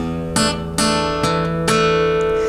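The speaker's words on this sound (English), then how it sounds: "So that's plucking the 6th string open, and then strings 3 and 2 twice," A guitar fingerpicks a pattern, an open low string followed by paired higher notes, four distinct plucked attacks ringing out clearly and close in a quiet room.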